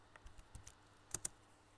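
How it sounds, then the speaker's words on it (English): Quiet clicks of fingers typing on a computer keyboard come in an uneven run of keystrokes, ending with two sharper, louder taps close together, with no talking. "when I finish typing it"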